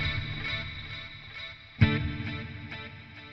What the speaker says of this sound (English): I love this reverb, it's called North Star